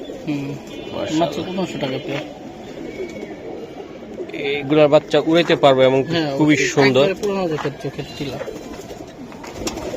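Chila pigeons coo in low, warbling bursts that swell in the middle, while people talk over them throughout.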